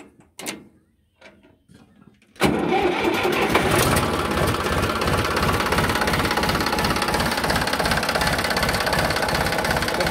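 A 2005 Sonalika 35 DI tractor with about 11,000 hours is self-started after a few clicks and knocks, then settles into a loud, steady, close diesel idle with an even chugging beat.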